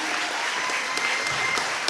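Audience applause at a middle and high school all-county band concert, a steady, dense wash of clapping that fills the whole short stretch at even loudness.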